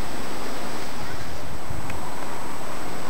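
Steady wind roaring and buffeting outdoors on a cold, foggy day at Enchanted Rock, broadband and continuous, with a low rumbling rush throughout and no clear voices.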